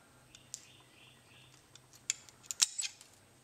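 Scissors trimming the corners of a hollow pill for an MT-G2 mod, a few quiet, sharp snips and clicks that grow more frequent toward the end against a faint hum.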